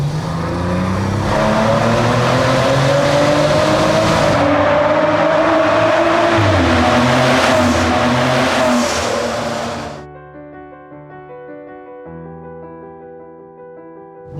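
A Maserati Ghibli sedan engine revs loudly and climbs through the gears in a sustained roar for about ten seconds, then cuts off as soft music takes over.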